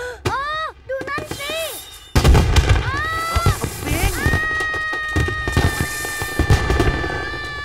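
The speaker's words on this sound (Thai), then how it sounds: "เจอพลุเสียงดังมากมา" Loud fireworks boom and crackle in a dense, continuous barrage in the animated series Bing, preceded by a few high, meow-like cries.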